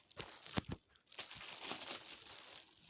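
Crinkly plastic packaging around a foil fringe curtain is opened up close, with sharp rustles and tearing crackles at first, then continuous crinkling, fairly quiet, with no talk.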